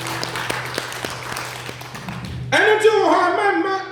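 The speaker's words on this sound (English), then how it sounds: "Clap your hands for Jesus." Congregation clapping hands during a church service, steady crowd clapping for about two and a half seconds before a preacher's voice takes over loudly.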